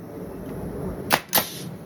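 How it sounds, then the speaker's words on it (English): Two sharp pneumatic bursts from a nail gun shooting nails, about a quarter second apart, loud and close, each a quick hissing crack over a quiet background. "we're going to shoot a nail in it"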